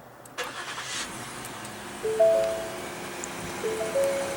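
A 2015 Ford Edge with the 3.5-liter V6 cranks and fires up via push-button ignition, a brief starter whir settling into a steady, moderately loud idle hum close by, with no talking.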